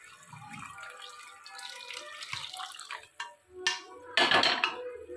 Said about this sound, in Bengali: দিয়ে আমি জলটা ঢেলে দিলাম।